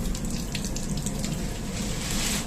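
Water gushes steadily from a foot-pedal operated tap into a basin aboard an Indian Railways AC 3-tier train carriage, a continuous close splashing stream over a low rumble of the moving coach.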